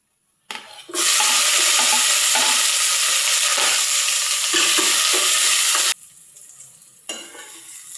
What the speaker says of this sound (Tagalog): Ayan, gisang-gisa na ang luya at sibuyas.